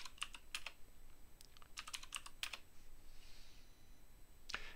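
Someone types a username and password on a computer keyboard while setting up an Ubuntu Linux login on Windows 11, producing quick bursts of crisp key clicks separated by short pauses.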